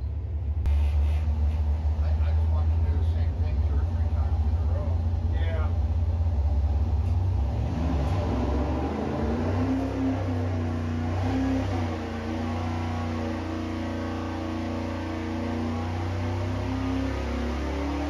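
Dual-quad 283 stroker Chevy Corvette engine with two WCFB carburetors running on a dyno. It makes a steady, close, low rumble that rises and holds partway through, with someone talking over it.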